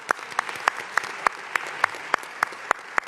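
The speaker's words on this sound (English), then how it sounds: "let's give them applause" Audience applause for tenant associations at the opening of a recreation center, heard as a fairly quiet spread of clapping with a few sharp, distinct claps standing out at a steady, regular pace.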